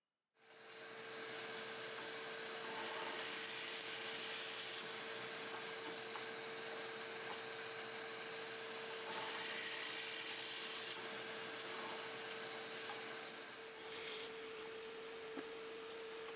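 A drill bores holes in wooden bench pieces held in a jig, producing a steady, sustained whirring hiss with a constant tone that lasts about thirteen seconds before it winds down.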